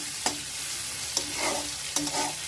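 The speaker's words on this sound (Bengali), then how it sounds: "এই তেলে দেবো বলেই আমি কালি জিরা ফোড়নটা আগে দিয়ে দিলাম" Nigella seeds spitting and crackling in hot oil, a steady close sizzle with a few sharp pops and a scrape of stirring, tempering before taro stolons are added.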